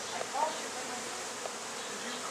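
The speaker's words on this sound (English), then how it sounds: "this swarm has just showed up here at this Dunedin property" A swarm of Africanized bees hums at a property in Dunedin, a dense, steady buzz that holds at an even level throughout with no pauses.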